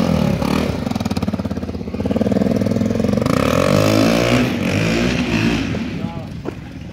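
A BMW motorcycle engine revs under throttle, its rough droning note swelling and easing over several seconds while people talk nearby.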